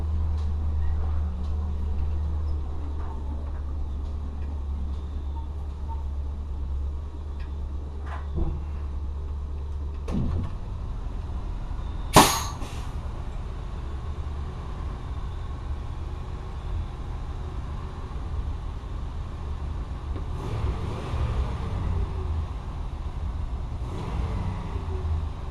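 An old bus that has sat for eight months idles and creeps slowly over wet ground, a low steady engine rumble that shifts partway through, with a sharp clunk and occasional knocks, no talk.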